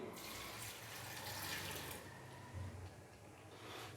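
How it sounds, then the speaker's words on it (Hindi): A glass of water is poured into beef koila karahi, making a quiet, steady splashing pour that runs for a couple of seconds before settling into a softer trickle. "सबसे एंड में हम इसके अंदर डालेंगे 1 गिलास पानी"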